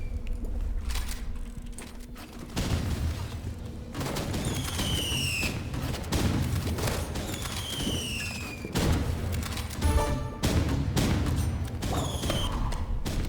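Repeated explosive bursts and gunfire crackle from RPGs and guns in the Roblox game Rivals, on an arcade server mode, with dense overlapping blasts and thuds at a steady loud level and no talk.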